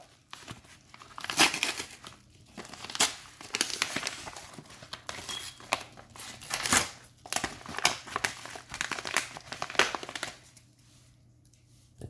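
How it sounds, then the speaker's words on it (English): Packing tape is peeled and pulled off an Elegoo kit box. Close, quiet crinkling and tearing noises come in irregular bursts, with short pauses between pulls. "It's quite hard to take off the tape."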